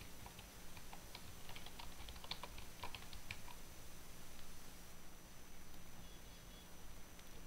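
Quiet, quick clicking of typing on a computer keyboard, a burst of keystrokes over a faint steady background hiss that trails off into near silence.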